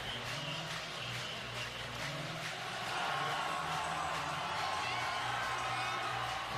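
Raucous crowd at Memorial Stadium in Clemson, South Carolina, during a Syracuse–Clemson college football game, a steady loud roar of cheering that swells midway and holds, with scattered whoops and no clear talk.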